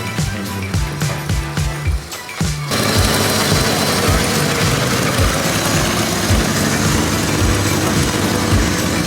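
A carbureted Mercedes 450SL R107 engine idles steadily up close, a busy mechanical chatter with a pulsing low rhythm that turns louder and denser after a couple of seconds, with no talk over it.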